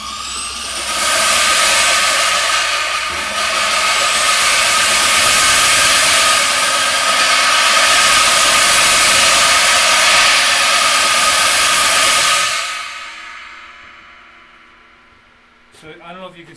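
A file pressed against a spinning bronze cymbal gives a steady, loud grinding hiss over a motor hum for about twelve seconds, then the whir winds down and fades.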